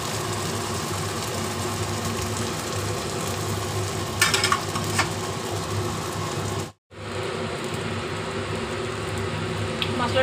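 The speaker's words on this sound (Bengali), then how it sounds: "মশলাটা তো আমি কষিয়ে ফেলেছি সব দিয়ে" Spice masala with ginger-garlic paste and sour yogurt sautés in a pan, giving a steady close sizzle and stir under a low hum, with a brief dropout near the end.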